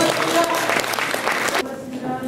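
Audience applause fills a large auditorium hall at a journalists' association awards ceremony, a steady dense patter of many hands that drops off sharply near the end, leaving a quieter hall tone.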